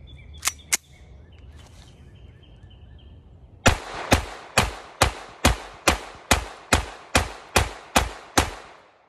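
A Beretta 80x Cheetah .380 ACP pistol fires Norma NXD non-expanding ammunition: two quick, sharp shots come first, then after a pause a steady string of about a dozen evenly spaced, crisp reports, each followed by a short ring-off.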